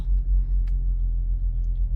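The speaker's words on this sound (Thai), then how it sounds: "เครื่องยนต์ก็จะทำงานนะคะ" A Honda CR-V Turbo E 2WD engine runs after a push-button start, settling into a steady, close, low idle rumble with a faint brief click early on.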